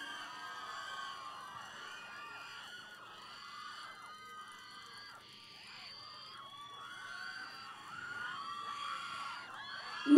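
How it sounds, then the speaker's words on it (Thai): A crowd at an outdoor political campaign rally in Bangkok's Lak Si–Chatuchak district lets out high-pitched screams and shrieks in overlapping waves, fairly faint and distant, with a sharp loud burst right at the end. "ใครว่าสุรชาติหล่อขอเสียงกรี๊ดยืนยันหน่อยครับ"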